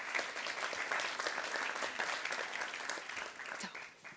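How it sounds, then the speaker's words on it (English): Steady, fairly faint applause from an audience at a waste-reduction challenge kick-off event as someone joins the stage, dense clapping sustained throughout, heard from a distance without speech. "Can I get a big round of applause for Lisa?"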